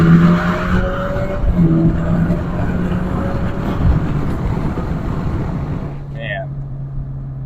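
An Alfa Romeo Giulia with a Squadra ECU tune revs hard at wide open throttle and holds a steady, loud drone as it accelerates, with a brief high whine near the end and a voice underneath.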